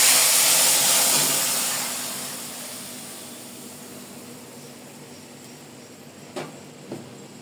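Shrimp curry poured into a hot pan of fried cumin gives a loud burst of hissing steam that slowly fades into a softer sizzle, with a couple of light knocks near the end.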